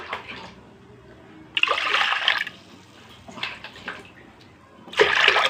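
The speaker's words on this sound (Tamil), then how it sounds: "நான் இந்த கப்பால் 3 டம்ளர் தண்ணி ஊற்றிக்கிட்டேன்" Water is poured by the cup into a cooking pot for dal in three separate splashing bursts with quiet pauses between them, close and clear.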